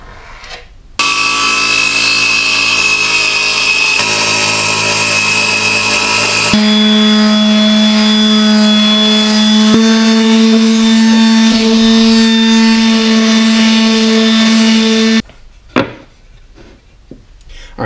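Power tool cutting out a 3/4 inch plywood lid for a center console, a loud steady whine running nearly continuously for about fourteen seconds, with a change in pitch partway through before it stops abruptly.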